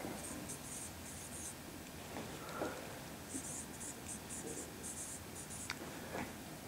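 Pen or pencil writing out a math solution by hand on paper, quiet scratchy strokes in short bursts with small pauses, close and faint.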